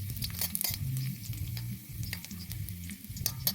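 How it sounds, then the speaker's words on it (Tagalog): Food is stirred in a sizzling frying pan, the spatula scraping and tapping in quick irregular strokes over a continuous fry hiss, close up and without voices. "Ihalo muna natin siya hanggang sa ang bango niya"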